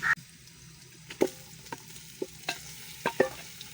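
Minced meat sizzling in a pan, with intermittent scraping and stirring clacks from a utensil against the metal, fairly close and no talking.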